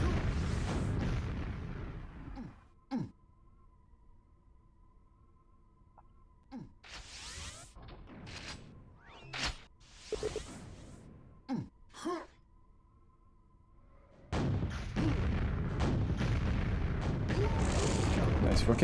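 Rocket explosions in a QuakeWorld duel: several sharp booms and bursts scattered across the stretch, some clustered, between quieter gaps, with rumbling action noise at the start and end.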